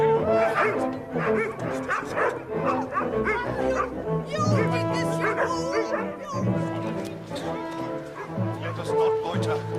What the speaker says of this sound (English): Release the hounds